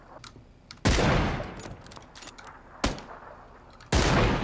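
Gunfire in the battle game PUBG, with three sharp, loud shots spaced apart, each ringing out with a long decaying tail over a quiet background of scattered small noises.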